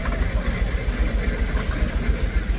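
A big showman's steam engine runs steadily at an Appleford 75 steam preservation rally, giving a close, continuous low chuffing throb with an even, pulsing rhythm and no voices over it.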